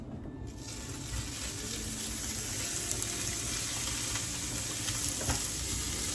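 Butter from a frozen stick sizzles against a hot State Fair waffle, a continuous, close, even hiss that swells slightly after the first second, with faint scraping and no talking.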